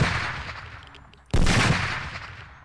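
Gunfire from the video game SurrounDead: a loud, sharp burst of shots with a lingering tail, then a second heavy blast that decays slowly, close and prominent.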